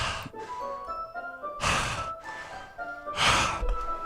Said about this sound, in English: It sounds like breathing. Heavy breathing.